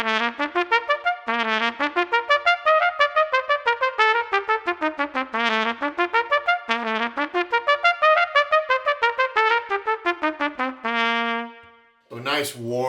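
A solo trumpet played with a Vincent Bach 1.5C mouthpiece gives a warm, round, classical brass-quintet tone, running through a lively melodic phrase of clearly tongued notes, close and clean. A brief voice comes in at the very end.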